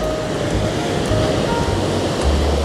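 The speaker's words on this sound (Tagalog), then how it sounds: "Sobrang lakas ng alon dito." Strong ocean waves crash and roar along the rocky shore of the Cliff Walk in Rhode Island, a steady loud rush of surf with wind buffeting the microphone.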